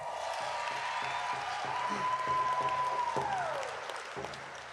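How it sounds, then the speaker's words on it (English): An audience at a Native gathering at The Paramount theatre applauding: sustained, full clapping from many hands, with a whistle sliding through it near the end. "Let's give them a big round of applause, everybody"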